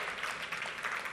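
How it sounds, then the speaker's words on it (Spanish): Brief applause from a church congregation honoring God during a Spanish-language sermon on economy and commerce, a dense, fairly soft wash of clapping with no talk over it. "Un aplauso a Dios que tiene el poder para hacer la riqueza y multiplicar"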